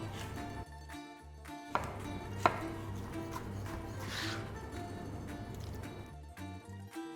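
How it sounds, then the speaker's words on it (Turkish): A knife chops about five medium tomatoes on a board in a kitchen, faint irregular cuts and a couple of sharper knocks heard under steady background music. "Yaklaşık 1 kilo 5 tane orta boy domatesi doğrayacağım."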